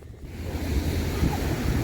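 Sea waves break and wash onto a beach in a steady, loud roar with surging swells, mixed with gusty wind buffeting the microphone; no voices.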